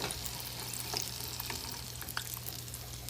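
Chicken pops double-fry in hot oil, a steady close sizzle and bubbling hiss throughout, with scattered small pops and crackles.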